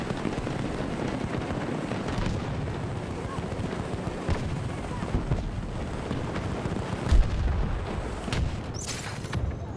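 Battlefield 2042 gameplay full of continuous gunfire and booming explosions, a dense, rumbling battle din with sharper shots now and then, as a player talks over it.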